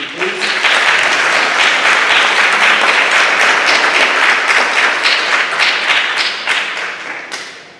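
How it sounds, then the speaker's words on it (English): Loud, close applause from the audience at a Westside High School academic awards ceremony, dense clapping that stays strong for several seconds and then tapers off near the end. "let's give a round of applause for this group"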